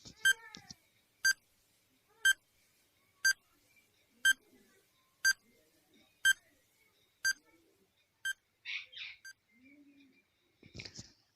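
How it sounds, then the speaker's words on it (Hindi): Quiz countdown timer beeping: eight sharp evenly spaced electronic beeps about one second apart, clear against near silence, followed by a few brief chime-like tones. "तो इसके लिए टाइमर शुरू होता है अब।"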